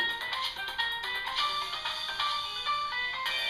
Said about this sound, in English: That is my work phone.